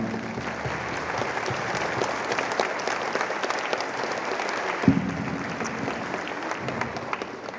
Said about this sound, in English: So let's give the parents in the audience a round of applause as well.